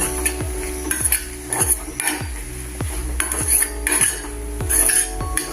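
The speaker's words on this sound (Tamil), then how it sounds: "எல்லா பக்கமும் சேர்கிற மாதிரி ஒரு கிளறு கிளறிட்டு எல்லாத்துலேயும் எல்லா கேரட்லேயும் முட்டை படுற மாதிரி" A metal spoon stirs carrots coated in egg in a pan, scraping and clinking against the pan about once per second in a steady rhythm, close and clear over a faint sizzle.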